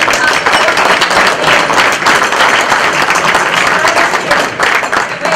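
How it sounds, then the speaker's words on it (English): Attendees at an annual meeting applaud the newly elected board, a strong, steady burst of many hands clapping close by with a few uneven swells. "Let's give them a big round of applause"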